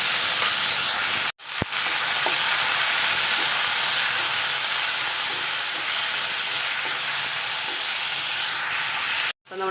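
Tomatoes and okra sautéing in coconut oil, a loud, steady hissing sizzle that holds for the whole stretch apart from two brief cuts, close and with no voices.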